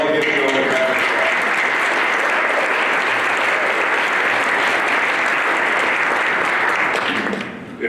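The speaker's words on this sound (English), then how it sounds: "I'd say we all give Joan a round of" A large audience gives a loud, sustained round of applause at a Hall of Fame induction speech, a dense wash of clapping that holds steady for several seconds before tapering off at the end.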